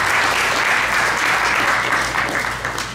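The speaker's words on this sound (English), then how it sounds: "big round of applause for Kamala." Warm applause from an audience at an ISKCON Sunday Love Feast lecture in Brampton, a dense, steady clapping that fades slightly toward the end.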